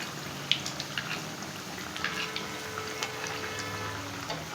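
Crispy cheese vada fry in hot oil as they are turned, with soft bubbling and scattered small crackles and pops, close and fairly quiet.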